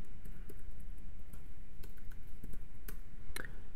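Code being typed on a computer keyboard for Minecraft Forge modding, a quick irregular run of close, crisp key clicks over a low steady room hum.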